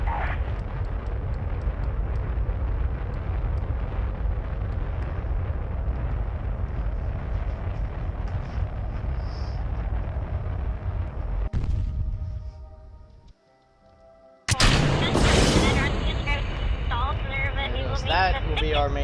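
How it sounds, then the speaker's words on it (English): A rocket engine burns at full throttle during an apogee kick in Kerbal Space Program, a loud continuous roar that cuts out into near silence before a second harsh blast of noise erupts. "I'm gonna start burning lightly here, and then full throttle it about here for our apogee kick"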